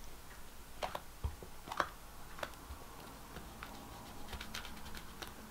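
A cookie cutter pressed through polymer clay (Sculpey) gives a few soft, scattered clicks and taps, faint and close, in a quiet room with no talking.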